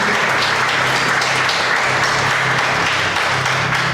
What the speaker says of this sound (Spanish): Levante una ofrenda de aplausos al Rey de Reyes y Señor de Señores.